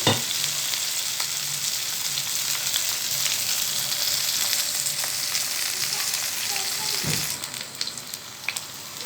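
Mushrooms sizzle and fry steadily in a pan for mushroom mandi rice, a close, continuous crackling hiss with occasional stirring scrapes and no talking.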